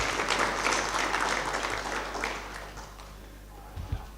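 An audience claps for itself at a spring lecture session, dense steady applause filling the room and slowly tapering off, with a few last scattered claps near the end.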